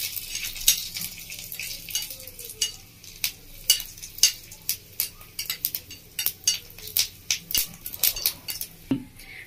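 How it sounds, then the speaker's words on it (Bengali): Tempering spices sizzle in hot ghee as a spoon stirs them in a pan, giving a soft steady frying hiss punctuated by a rhythm of sharp utensil scrapes and taps against the metal. "ঘিয়ের মধ্যে ভেজে নেবো এভাবে নাড়াচাড়া করে"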